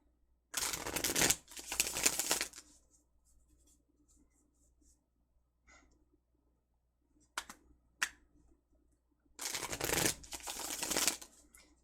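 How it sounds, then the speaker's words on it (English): Two bursts of rapid riffling tarot card shuffles, separated by quieter handling noises and a couple of sharp taps, close and clear with no talking. "So I'm gonna give this a shuffle."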